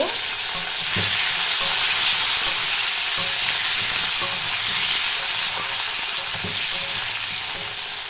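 Tomato and spices frying in a pan for a katla fish curry, a loud continuous sizzle with occasional stirring scrapes, close up and steady throughout.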